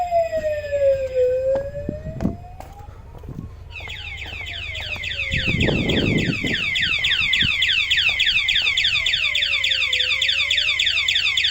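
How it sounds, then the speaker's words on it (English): A Y-cam smart security system alarm goes off after a door is opened, starting with a faint sweeping wail, then switching to a loud, rapid, continuous warbling siren that repeats steadily without pause. "I'm going to open the door. I'm hoping that is what's going to set the alarm off"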